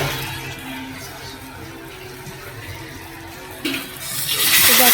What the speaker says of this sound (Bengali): এখন আমি জল দিয়ে দিলাম জলটা সাইডে এই ইলেকট্রিক কেটে আর কি গরম বসাইছিলাম তো ওটা এখন দিয়ে দিলাম